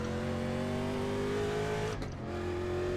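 A NASCAR race car engine at the 1987 Michigan race, a sustained loud mechanical drone with a steady pitch that briefly dips and then continues, heard from a distance.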